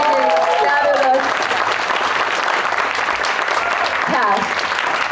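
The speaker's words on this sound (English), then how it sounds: "let's give them applause." Audience at a 2025 Slamdance premiere Q&A applauds the film's cast, sustained dense clapping across the room, with a voice briefly heard over the opening and again near the end.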